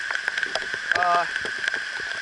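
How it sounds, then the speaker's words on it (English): Heavy rain pattering steadily and close on an outdoor surface, a constant hissing patter of drops, with a brief voice sounding faintly partway through. "It's really raining pretty hard here."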